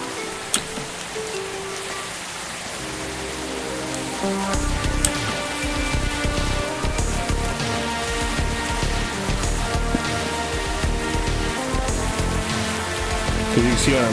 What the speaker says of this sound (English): The rain follows the player.